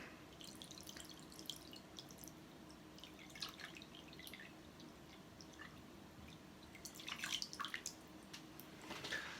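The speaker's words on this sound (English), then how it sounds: "more water is coming" Water poured into a pan and dripping, with scattered close drips and trickles throughout and a louder burst of splashing drips toward the end, no voices.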